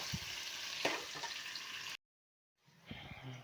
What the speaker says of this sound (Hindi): तो गाइस, हमारा तेल गर्म हो चुका है, हम इसमें ऐड करेंगे प्याज और इसको थोड़ा सा फ्राई करेंगे।